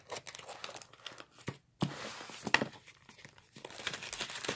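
Package wrapping being peeled and torn open, crisp crinkling and tearing bursts close by in uneven spurts with brief pauses between.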